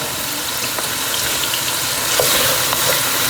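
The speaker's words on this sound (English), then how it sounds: "Put it a little bit higher because you want them to kind of sear a little bit for the first couple of" Philly cheese steak meat searing in a Pioneer Woman pan, a loud continuous sizzle and crackle close by with occasional stirring clicks, no talking over it.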